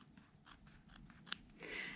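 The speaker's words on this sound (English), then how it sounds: "we can trim our seam allowance to make sure it's nice and even all the way around." Scissors trimming the seam allowance on a jacket welt pocket, a series of quiet, crisp snips in an even rhythm, close and alone with no voices.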